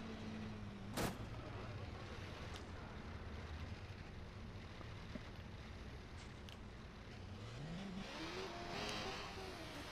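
A motorcycle races at high speed through the video game Watch Dogs, its steady engine roar filling the whole stretch, with a brief sharp bang early on and the pitch climbing as it speeds up near the end.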